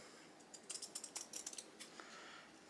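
Scissors snip through a men's dress shirt in a quick run of about a dozen crisp, close cuts, quiet and without talk, followed by a faint trailing snip.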